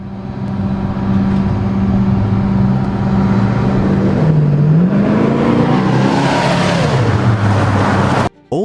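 A 1969 Oldsmobile Hurst 442 muscle car engine rumbles loudly and steadily, then its pitch rises and dips as it accelerates through the gears, close and continuous before stopping sharply.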